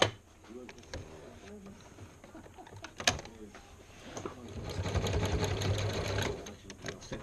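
A sewing machine stitches in short bursts, clicking and whirring close by, building to a steadier run of rapid stitches near the end.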